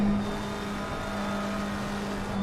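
A McLaren race car heard on board in Assetto Corsa Competizione at Watkins Glen holds a steady, sustained engine drone with a constant pitch throughout, moderately loud and without talk.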